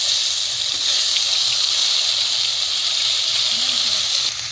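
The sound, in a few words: onion and garlic paste sizzling in hot oil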